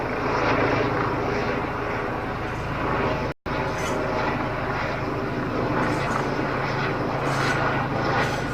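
A helicopter passes overhead outdoors in a fruit orchard, its steady rotor and engine drone loud and continuous throughout, with one brief dropout partway through.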